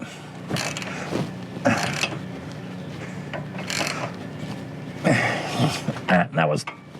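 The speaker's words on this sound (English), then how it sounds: "now we're gonna come back with a big ratchet" A big ratchet clicks and creaks in short bursts while tightening a bolt on a Kelderman dual steering stabilizer on a Ford Super Duty, with a person talking between the strokes.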